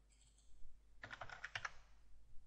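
A computer keyboard is tapped in a short, quick burst while dimensions are entered into CATIA V5 on a desktop, with soft, close keystrokes over a quiet room hum.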